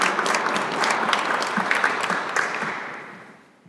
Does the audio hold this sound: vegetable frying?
no